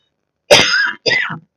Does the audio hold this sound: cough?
yes